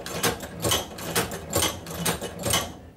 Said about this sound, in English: Then we'll go ahead and continue sewing.